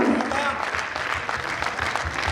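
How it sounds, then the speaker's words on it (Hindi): Audience applause for teachers at a medical college batch silver jubilee celebration, a steady wash of many hands clapping in a hall, continuous and moderately loud. "Kindly clap for your teachers."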